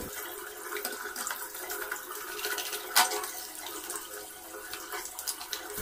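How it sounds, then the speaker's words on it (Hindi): Running water steadily splashes over spray gun nozzle and parts being washed clean, a continuous close hiss with a brief louder splash midway. "हम इन सारे पार्ट्स को अच्छे से धो लेंगे।"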